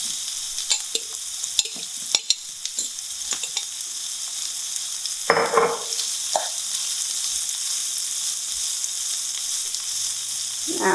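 Spam and onions frying in a pan for breakfast bombs, a steady soft sizzle running throughout with occasional sharp clinks and scrapes of stirring, plus a brief louder burst near the middle.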